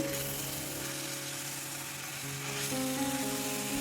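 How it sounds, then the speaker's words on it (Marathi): Fresh fenugreek leaves sizzle in a hot spiced oil tempering while being gently stirred, giving a steady, close frying hiss with a faint tonal hum beneath it. "आता ही मेथी फोडणीमध्ये घातल्यावरती छान एकसारखी हलक्या हाताने हलवून घ्यायची"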